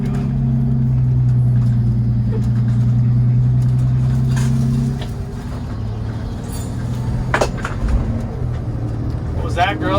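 A Jayco Seneca Class C motorhome climbs Colorado's Hoosier Pass on Highway 9. Its engine drones loud and steady with a sustained low hum, then the pitch drops and the road rumble continues. Voices talk over the vehicle noise in the second half.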